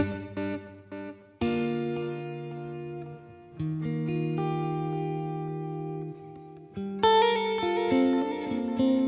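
A NUX guitar pedal's tape echo effect on plucked electric guitar notes, each sustained chord ringing out with repeating echoes and a smeared tail, played in several separate phrases.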